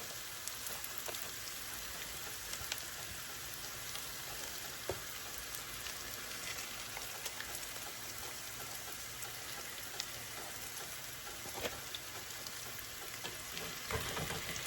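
Lean ground chuck patties fry on a bed of onions in a skillet, giving a faint, steady, rain-like crackle with scattered tiny pops and no voices.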